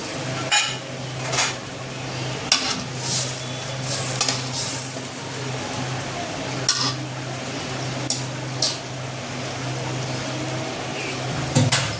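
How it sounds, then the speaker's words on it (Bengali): Tilapia fish pieces cooked with a little water in a pan for a fish curry, with a metal spoon scraping and knocking repeatedly against the pan over a low steady sizzle. "জল আমি বেশি দেব না, কারণ মাছটা একটু ভাজা ভাজা করব।"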